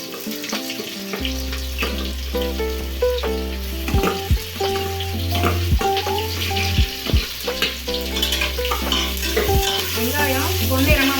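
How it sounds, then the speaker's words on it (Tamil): Sliced onions frying in oil with whole spices until golden for a mushroom biryani, a continuous close sizzle with repeated stirring clanks and scrapes over steady low background tones, with no talking. "வெங்காயம் பொன்னிறமாக வர வரைக்கும் நம்ம நல்லா வதக்கிக்கலாம்."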